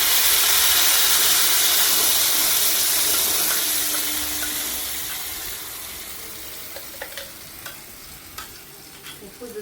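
Tomato chutney poured into hot tempering in a pan with the gas just turned off, a broad loud sizzle that slowly fades, followed by a few light clinks and stirring scrapes.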